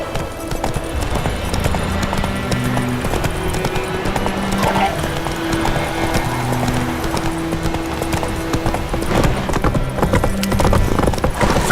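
The horse Roach galloping in the Witcher 3 Wild Hunt video game, rapid continuous hoofbeats drumming close and loud under a low musical score, with no talking over it.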